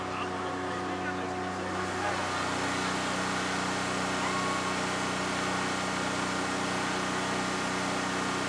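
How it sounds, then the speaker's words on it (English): A new diesel locomotive engine rumbles steadily at a railroad event where riders board for a trip. The drone is broad and unbroken, with faint voices in the background. "While the new diesel engine rumbled"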